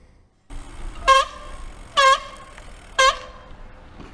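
A piercing, harmonic squeal from a bicycle's front disc brake, which suffers brake fade, sounds three times at steady one-second intervals, close and loud, over a low background hum.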